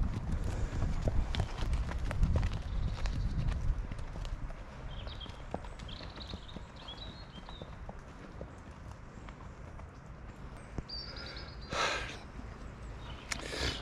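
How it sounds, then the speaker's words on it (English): Steady hoofbeats of cob horses walking, clip-clopping on a hard surface amid wind noise and outdoor ambience. "Are they Shire horses? They're cobs, they are."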